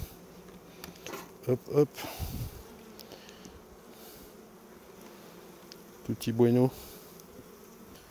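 Honeybees buzz steadily around open beehives as a low, continuous hum, while someone speaks briefly twice over it.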